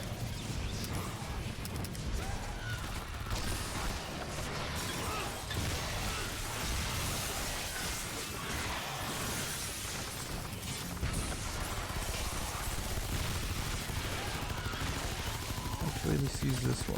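Gunfire in the action game Shadow Warrior 2, fired from inside a house at enemies, dense and continuous with steady crackling shots and impacts over a busy game mix, with talk faintly mixed in.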